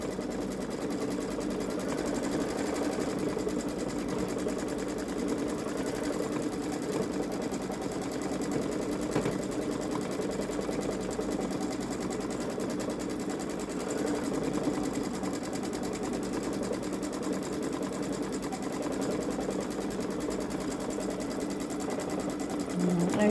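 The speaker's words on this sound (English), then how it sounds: "This is only a 4-minute stitch out." A Babylock Solaris Vision sewing machine stitches out an edge-to-edge quilting pattern with a continuous, even mechanical whir and rapid needle rattle, close and steady for the whole stretch.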